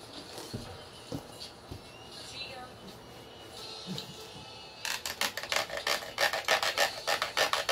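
Box cutter or blade slicing open the cardboard packaging of a Sony BDV-E2100 Blu-ray home theater box, with quiet scraping early on, then a run of loud, rapid rasping strokes near the microphone in the second half.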